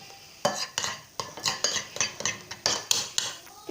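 Sticky slime being stirred and mixed in a bowl, giving a steady run of wet, squelchy slaps and clicks, roughly one stroke every quarter second, close and fairly loud with no talking.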